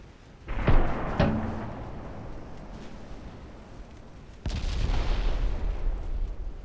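Heavy shell impacts in the naval battle game Ultimate Admiral Dreadnoughts, with pre-dreadnought era warships trading fire: a few distinct booming hits a few seconds apart, the last followed by a sustained rumbling roar.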